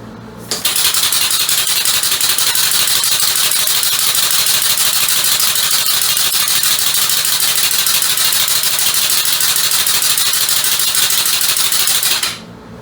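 A compressed-air bicycle assist motor runs in a steady, loud, rattling buzz for about twelve seconds, starting and stopping abruptly, with no voices.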